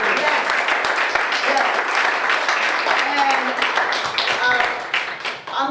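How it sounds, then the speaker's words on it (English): An audience applauds for the elders at a public speaking event, a dense, lively wash of clapping that holds steady for several seconds with voices mixed in. "Could we please clap for the elders?"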